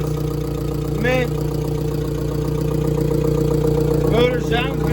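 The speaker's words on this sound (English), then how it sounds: "Motor sounds good. Idling good." A turbocharged Hyundai engine idles steadily at close range, a continuous low hum running through the whole stretch, with brief chirps from another source layered on top.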